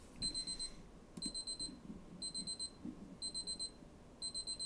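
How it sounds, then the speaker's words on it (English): An alarm clock beeping in rapid clusters of high-pitched tones, repeating every second or so, fairly faint against a quiet background. "Yes, I'm going to let that beep for a minute."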